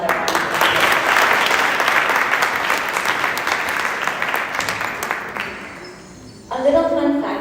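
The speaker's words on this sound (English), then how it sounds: "I believe that deserves another round of applause." An audience applauds a performance at a Chilanga pooja with loud, dense clapping that thins out and fades, after which a voice and other sounds take over.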